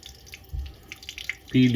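A kitchen tap runs gently into a sink while squid is washed, a steady close splash with drips, ending in a louder burst of water.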